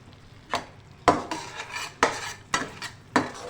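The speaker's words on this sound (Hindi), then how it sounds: "अब मैं इसके अंदर अंडे डाल के स्पीड में जो है मिक्स करूँगी।" Beaten eggs stirred into poppy seed sauce in a metal pan, a spoon scraping and clacking against the pot in quick repeated strokes about every half second, close and fairly loud with no talking.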